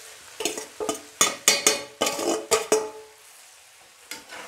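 Ragi kara puttu stirred in a pan, heard as a quick run of about nine scraping, rustling strokes close by, followed by a pause and one last stroke, with no talking.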